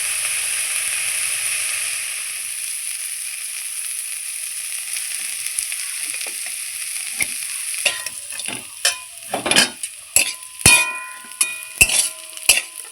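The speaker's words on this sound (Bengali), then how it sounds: "তারপরে সজনা ফুলটা দিলাম তাহলে সজনা ফুলটাও ভালোভাবে ভাজা হবে" Potatoes and drumstick flowers sizzle in a pan, fading to a quiet crackle, then a spoon scrapes and clinks against the pan in quick irregular stirring strokes.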